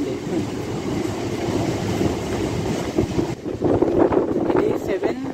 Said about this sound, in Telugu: అక్కడ నుంచి గూడ్స్ ట్రైన్ వెళ్ళింది.